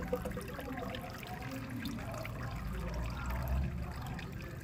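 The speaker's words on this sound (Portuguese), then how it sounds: "Vamos jogar mais um pouquinho de água." Water poured onto succulent potting substrate and draining through it, a soft continuous trickling and gurgling wash with a low rumble, no talking.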